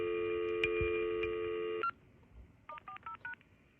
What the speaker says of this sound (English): the beep sound from the handset